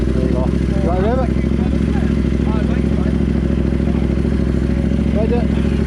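A motorcycle engine, started and revved, runs close by with a steady low throbbing drone that fills the whole stretch, while voices chatter faintly over it.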